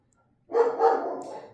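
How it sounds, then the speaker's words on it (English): A pet dog indoors gives a short burst of barking, one or two quick woofs from slightly off to the side, then falls quiet. "Excuse my dog in the background"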